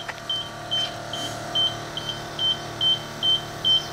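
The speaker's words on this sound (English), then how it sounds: "Left strut's going to start pumping up." The air suspension compressor of a 1998 Lincoln Mark VII runs with a low steady hum, pumping up the left strut, while a high electronic beep repeats at a regular rhythm over it.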